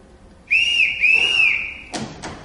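A sharp, shrill whistle signal sounds close and loud in two quick blasts with a bending pitch, followed by a couple of brief thuds.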